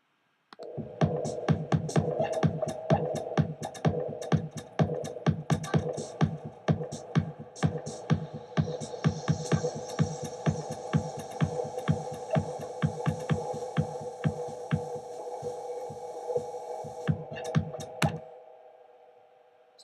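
White noise build made in Ableton, a rhythmic pulsing synth pattern of short repeated hits with a noisy upper layer gradually swelling in, playing steadily for about seventeen seconds before stopping.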